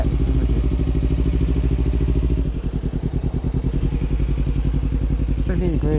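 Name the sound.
motorcycle being ridden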